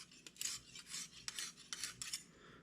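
A Grohmann knife is drawn across the hone of a Lansky sharpening system in about five close, hissing scrapes of steady rhythm, with no talk.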